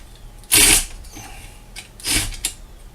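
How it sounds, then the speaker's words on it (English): A wrench ratchets on bolts of a stand for a 12-inch Craftsman vertical band saw: two short metallic clicking bursts, close and fairly loud, separated by quieter shop ambience. "as I put these together and tighten them up, first thing you got to get the wrench"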